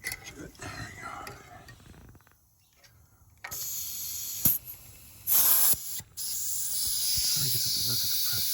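Air compressor hissing while inflating a bicycle tire fitted with pool noodle puncture protection: steady close hissing that stops briefly, then bursts and resumes, continuing strongly to the end.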